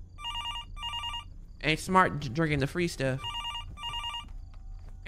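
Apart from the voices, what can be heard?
telephone ringing in the video game Fears To Fathom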